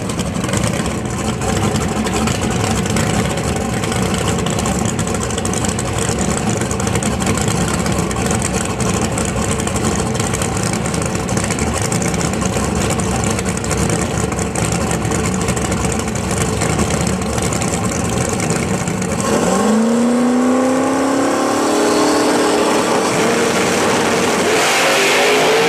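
Drag racing cars at PDRA testing at Dana Motorsports Park in Benson, North Carolina roar loudly and steadily, with a sharp rising engine sweep near the end as a car launches and pulls away.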